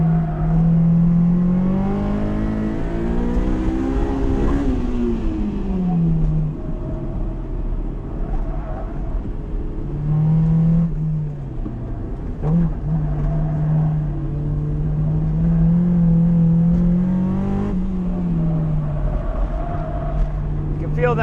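A Honda S2000 sports car on a track on 360-treadwear tires, its engine revving hard and close with rising and falling pitch through gear changes, while a person talks over the sound.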